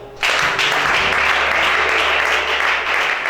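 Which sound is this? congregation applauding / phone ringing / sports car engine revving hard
congregation applauding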